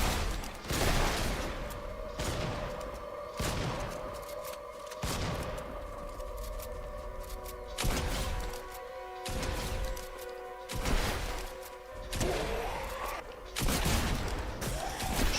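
Gunfire in Fortnite, a repeated series of loud sharp shots spaced a second or two apart over constant game noise and music.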